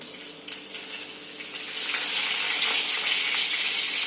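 Cumin, mustard seeds and torn curry leaves sizzle in hot oil for a Marathi vegetable dish, a loud, close, continuous frying hiss that swells and thickens after the first couple of seconds.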